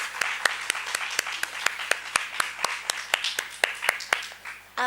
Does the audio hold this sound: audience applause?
yes